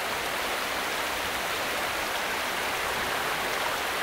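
Heavy monsoon rain pouring down outdoors, a dense, steady broadband hiss that stays constant and loud throughout with no pauses.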